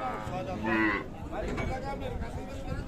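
A large Friesian cow lets out a low, drawn-out moo close by at a busy rural cattle market, with murmuring crowd noise around it.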